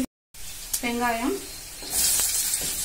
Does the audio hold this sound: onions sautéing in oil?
yes